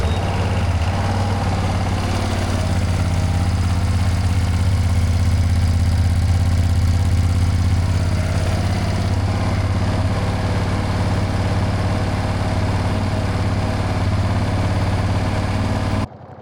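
A 2025 Ducati Panigale V2S motorcycle idles while warming up after a hard first start, a loud, close, steady low engine rumble that runs unbroken for about sixteen seconds and then cuts away abruptly.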